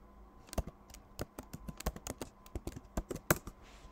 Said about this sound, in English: Install, type the password of your